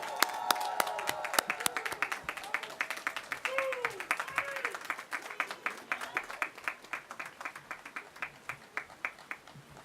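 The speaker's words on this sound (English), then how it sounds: "Please join me in a round of applause as he comes to the stage" Scattered applause rises from the crowd at the Lincoln University 2019 commencement, and in the second half it settles into a slower, rhythmic clapping of individual hand claps while voices call out.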